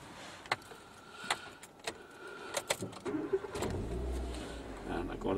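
A Nissan car's engine cranks and starts partway through after a few soft clicks and knocks, then settles into a low, quiet idle nearby.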